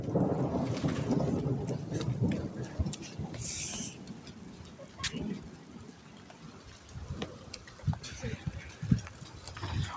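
Thunderstorm with rain: rumbling thunder and steady rain on surfaces as dark clouds move in, with bursts of noise throughout and people talking over it.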